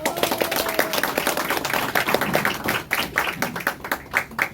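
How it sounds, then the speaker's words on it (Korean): Audience clapping at a Korean party-joining and election candidacy announcement event, a crowd of scattered hand claps that rises and thins, with more distinct individual claps toward the end and no talking. "박수 한번 치세요."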